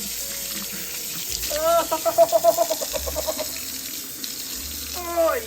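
Tap water runs into a sink for rinsing, a steady close hiss and splash with short flowing bursts, while a person briefly exclaims.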